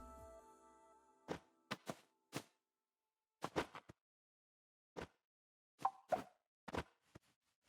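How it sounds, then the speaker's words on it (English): Idle animation sounds from Banjo and Kazooie, a DLC character in Super Smash Bros.: a scattered series of about a dozen short, hollow plops and pops in small irregular clusters, crisp and quiet against near-silence. "Banjo and Kazooie have released as a DLC character, and they also make a sound in their idle animations"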